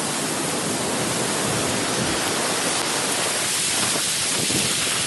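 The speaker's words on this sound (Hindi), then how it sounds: "देखते ही देखते काली घटाओं ने आसमान को लपेट में लिया और तेज हवाओं के साथ बारिश की मोटी मोटी बूंदें गिरने लगीं।" Heavy downpour with strong wind during a rainstorm in Pakistan, a dense, steady roar of rain that stays loud and unbroken throughout, with no voices.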